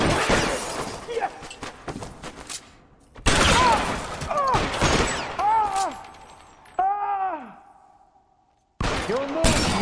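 Shotgun gunfire in the 1940s Los Angeles crime game L.A. Noire, several loud sharp blasts in bursts amid shattering and crashing, with shouting voices and gaps of near silence between volleys.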